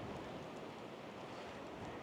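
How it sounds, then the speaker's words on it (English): Strong wind sweeps across a back-country campsite beside a van, a faint, even, broadband rush with no gusty peaks over two seconds, with no voices. "It's really windy out right now."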